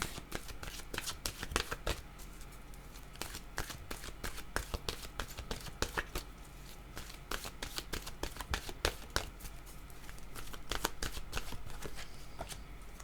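Oracle cards are shuffled continuously, giving a quiet, close stream of rapid papery riffles and soft snaps in an uneven rhythm throughout.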